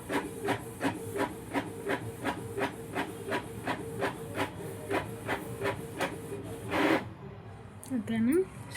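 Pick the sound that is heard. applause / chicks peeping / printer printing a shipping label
printer printing a shipping label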